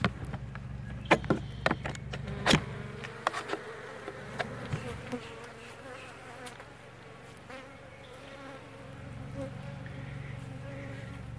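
Honeybees buzz from a freshly opened hive inside an abandoned house, a constant nearby drone under a run of sharp clicks and knocks from handling the hive early on.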